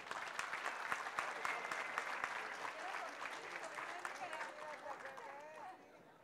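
Guests at a collective wedding ceremony in Boca del Río clap in a dense, lively round, with scattered cheers and voices mixed in, the applause gradually thinning toward the end.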